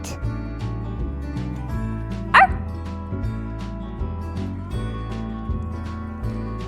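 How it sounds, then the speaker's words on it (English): A storybook dog lets out a single short bark over steady background music, about a third of the way in, clear and brief against the melody. "He growled at the dog in the water."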